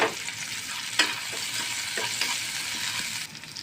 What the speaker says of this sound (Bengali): তেলের মধ্যে আমি পেঁয়াজটা দিয়ে দেবো আমি কয়েকটা রসুন কুচা